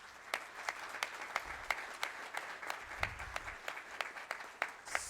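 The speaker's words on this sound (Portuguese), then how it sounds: "Peço uma salva de palmas para os nossos parlamentares." An audience at an inauguration ceremony for new members of Brazil's National Council of Cultural Policy applauds the parliamentarians, faint and distant, with steady scattered claps standing out against a soft background hum.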